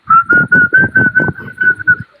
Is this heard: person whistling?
yes